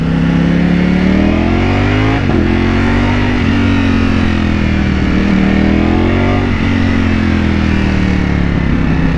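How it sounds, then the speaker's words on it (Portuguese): A Ducati V4S sport motorcycle engine drones loudly up close, climbing in pitch through repeated gear shifts as it accelerates, with no talking. "Da hora a moto, hein? Bruta."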